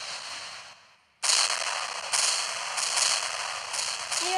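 Gunfire from the Sakura School Simulator video game comes as loud, harsh bursts that begin abruptly after a quiet moment and then repeat in close succession.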